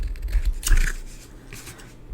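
Scissors trimming excess paper for a junk journal, a couple of quick crisp snips close to the microphone, with soft paper rustling around them.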